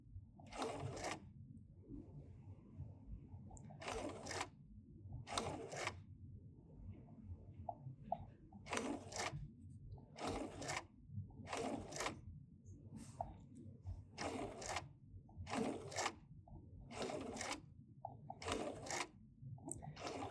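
A foot-pedal-controlled sewing machine stitches a quilt in short, evenly spaced bursts, about a dozen quick runs separated by pauses, faint and steady with no voices.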